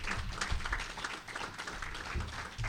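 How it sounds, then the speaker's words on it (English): Applause ripples through the audience at a libertarian convention speech, a soft, diffuse patter of many hands clapping at a moderate distance, steady across the moment with a low rumble underneath. "You should clap right now."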